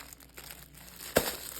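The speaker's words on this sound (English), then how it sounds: "There's paper parchments for the air fryer." Parchment paper sheets for an air fryer crinkle softly, one sharp crackling rustle standing out among faint handling sounds at close range.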